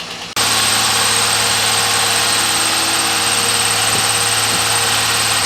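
A Holden Ute engine starts and then runs rough with a steady loud idle drone, close up, with a couple of faint knocks from the hydraulic tappets near the end.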